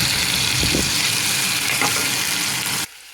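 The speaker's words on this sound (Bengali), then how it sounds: "আমি তেলের ভিতর পেঁয়াজটা দিয়ে দিলাম।" Loud, dense sizzle of onions frying in hot oil, steady and close, with a couple of faint clinks, then cutting off abruptly near the end.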